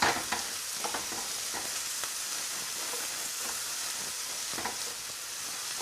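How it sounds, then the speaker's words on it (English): Onions and leeks frying in a pan hiss with a steady, dense sizzle, broken by occasional scrapes and taps as a spoon stirs them, close and continuous with no talking. "So keep stirring your onions and leeks."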